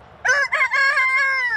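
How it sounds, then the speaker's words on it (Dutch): Young roosters at a chicken shelter in Amsterdam give one close, loud, drawn-out crow with a rising start and a long wavering tail, standing alone with no talk. "Maar op een gegeven moment worden ze groter en groter en deze kukelen al een beetje."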